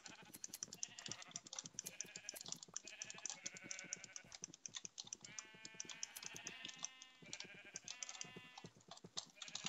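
Sheep in the Minecraft video game bleat repeatedly while being sheared, with rapid clicking and tapping throughout and game sound effects layered over a busy, dense mix.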